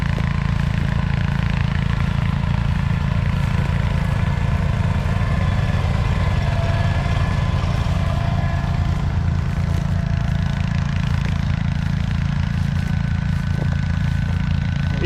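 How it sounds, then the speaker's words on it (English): An International Cub Cadet 1450 garden tractor pulls a Brindley disc through very hard ground at a plow day, its engine droning steadily and loudly for the whole stretch with no talk over it. "Here's the International Cub Cadet 1450,"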